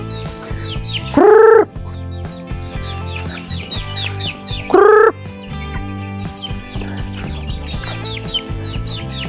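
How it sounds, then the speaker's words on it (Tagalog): Chickens on a mountain farm give two loud, sharp squawking calls a few seconds apart over softer chirps and clucks nearby, with no talk. "Ano manok ni Brad Tata dito?"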